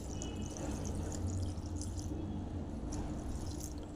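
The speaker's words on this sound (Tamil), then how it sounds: "தண்ணி வந்து நம்ம தேவையான தண்ணி ஊற்றிடலாம்." Water poured into a cooking pot for a ponnanganni keerai kadayal, a steady, soft liquid stream and trickle with faint drips, close but fairly quiet and continuous with no voices.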